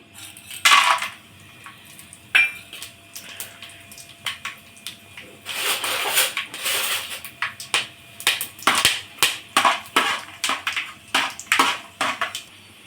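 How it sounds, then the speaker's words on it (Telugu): Whole pulao spices dropped into hot ghee and oil for a vegetable biryani, producing scattered clinks and crackles that build into a run of sharp, rhythmic sizzling pops. "ఒక స్పూన్ నెయ్యి వేసుకున్నాము ఆయిల్ హీట్ ఎక్కింది ఇప్పుడు ఈ దినుసులు వేసేసుకుందాం పలావ్ దినుసులు"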